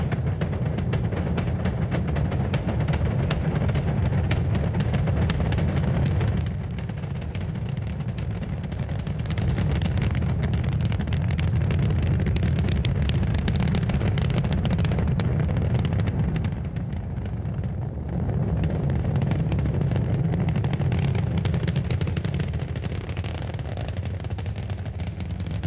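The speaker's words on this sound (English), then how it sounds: "Liftoff, we have liftoff at 11 a.m." A Saturn V rocket lifts off for the 1969 Apollo 9 mission, a steady, loud, broadband roar that holds for the whole stretch with only slight dips in intensity and no voices.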